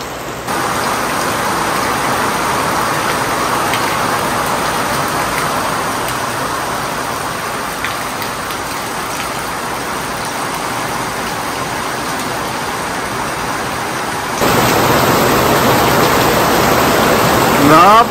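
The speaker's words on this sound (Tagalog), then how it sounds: "Napakasarap ng pakiramdam sa malakas na ulan." Heavy rain pouring steadily in the Philippines during a flood, a dense continuous broadband hiss that stays loud throughout and grows a little stronger near the end.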